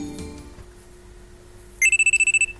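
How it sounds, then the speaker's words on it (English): A phone rings in the visual novel game Steins;Gate, a rapid series of about ten bright electronic ringtone pulses starting late, over a low hum and faint background music. "Oh, phone's ringing."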